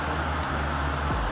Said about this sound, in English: Sorry for the fan noise, but it got hot in here.